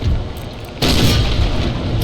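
Naval cannon fire in Empire: Total War during a sea battle, a single sudden heavy boom that cuts in over the low ambient rumble and then rolls on.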